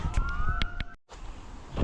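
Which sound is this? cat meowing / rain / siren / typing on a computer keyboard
siren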